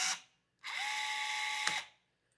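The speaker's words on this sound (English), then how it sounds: "once the rivet's on there, you push it into your hole and then squeeze." Electric rivet gun setting a rivet on aluminum edging: a brief whir, a pause, then a steady motor buzz of about a second ending in a sharp snap as the rivet pops.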